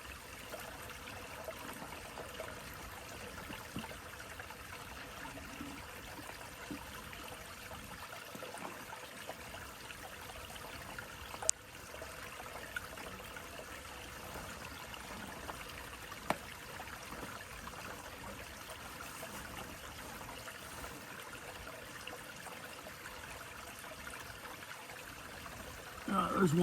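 Water trickles through a filter into bottles on the Appalachian Trail near Yellow Creek Gap, a faint, steady flow that runs the whole time, with a couple of small clicks and a louder knock at the end.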